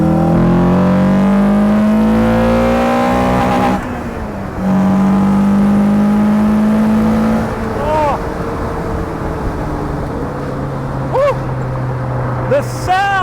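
A loud, roaring Ariel Atom open sports car engine at full throttle, with rising and falling pitch as it shifts gears, and someone speaking over the din.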